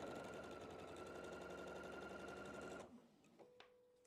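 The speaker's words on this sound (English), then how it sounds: "So I'm completely chain piecing this one." A sewing machine chain piecing pillow fabric, running in a fast, steady mechanical whir for about three seconds, then stopping, followed by a few soft clicks and a brief tone, close by with no talk.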